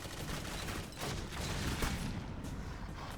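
Gunfire in the video game Clive Barker's Jericho: dense, continuous bursts of shooting form a thick, unbroken roar of shots and impacts with no voices over it.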